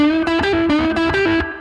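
A distorted electric guitar plays a short phrase of bent notes rising and falling in pitch, loud and up close with no voices.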